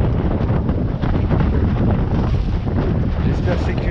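Strong wind gust buffeting the microphone aboard a small sailboat, a loud continuous roar with water and hull noise filling the whole stretch, steady and close.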